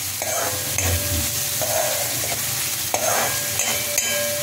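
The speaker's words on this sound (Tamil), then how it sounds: "கேஸை நல்லா சிம்மில் வச்சுட்டு வதக்கினேன்னா நல்லா வதங்கிடும்" Onions and potatoes being sautéed in a pan over a low gas flame for a Tamil potato kara kari: a steady soft sizzle under repeated scraping stirs, with a few sharper clinks of the spoon against the pan, and no talking.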